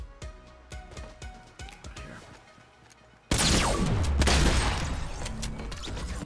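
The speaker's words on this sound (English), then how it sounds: "Find out where these shots came from." Video game gunfire: a run of sharp, rapid shots with mechanical clicks, then a sudden loud, dense burst of crashing, booming noise that continues to the end.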